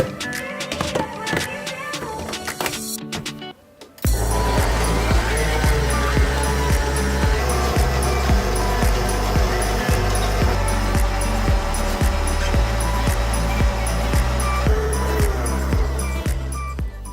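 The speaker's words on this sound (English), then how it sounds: "You can't beat it up with the hands, but we're gonna use the machine today." An electric mixer whips cream in a bowl, its loud motor whirring steadily and close after a brief quieter moment at the start, with a rattling, churning texture and no talk over it.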